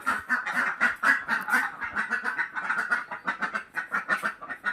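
A flock of ducks quacks continuously and loudly at close range as they are let out in the morning, a dense overlapping chorus of calls with no talking.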